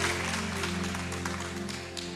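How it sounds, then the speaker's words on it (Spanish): A church congregation applauds with a sustained, fairly even round of clapping, a dense wash of many hands over a low steady hum, without speech. "Con un fuerte aplauso al Señor."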